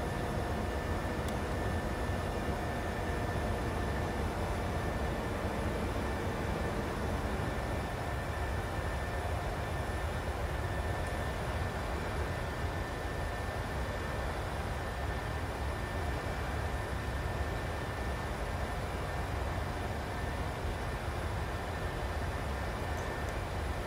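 A PMDG 737-600 airliner flies in a flight simulator game, its engines giving a steady, dense broadband roar with a thin high whine that holds evenly throughout without any talk.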